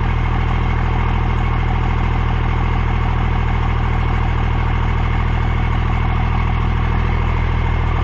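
A deep, steady diesel exhaust rumble from an idling Dodge Ram Cummins turbo diesel with a 4-inch MBRP straight-back exhaust off the turbo drones continuously at close range, loud and unchanging throughout.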